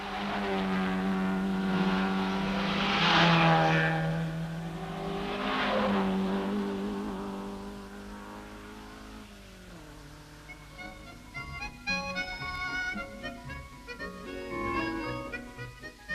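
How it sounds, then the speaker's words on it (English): Ferrari race car engines at the 1964 Tour Auto in France roar and drone loudly, rising and falling in pitch as they pass, with the sound thinning into scattered higher engine whines near the end. "The Ferraris, of course, look and sound magnificent."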